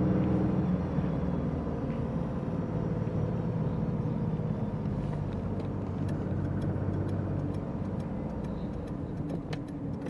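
A 1971 Citroen SM with its Maserati engine runs steadily and close up while the gears are shifted, a continuous low engine drone with faint ticking and clicks from the gear lever, no one speaking.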